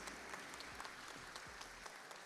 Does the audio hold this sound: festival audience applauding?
yes